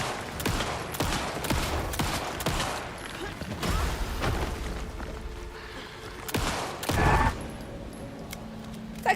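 Pistol shots in Alan Wake 2 crack in scattered bursts amid muffled game ambience, with several louder reports and mechanical clatter, moderately close but fairly subdued.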